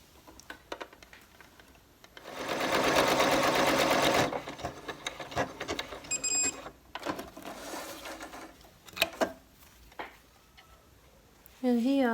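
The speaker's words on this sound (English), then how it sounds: "going to sew buttonholes on pant holders" Sewing machine running in one steady burst of about two seconds as it stitches buttonholes on cargo pant leg holders, followed by quieter handling clicks and rustles, with a short voice at the end.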